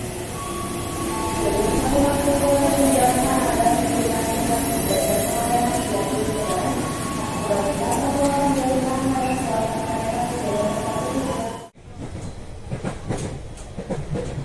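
Steady rumble and rattle of a moving KRL Commuter Line electric train in Jakarta, heard from inside the carriage, with wheel clatter throughout and a brief drop near the end.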